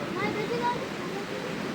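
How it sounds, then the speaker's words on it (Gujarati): Heavy rain pours down in London outside a shop, a dense steady hiss of falling water that fills the whole clip, with voices faintly underneath. "ખૂબ વરસાદ આવ્યો ખૂબ જ આવે છે"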